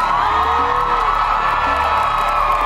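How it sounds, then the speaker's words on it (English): A convention crowd at Kitsune Kon 2024 cheers and whoops loudly for cosplay contestants, a sustained dense roar of many voices with no pause. "could I give a large cheer for our contestants in the back?"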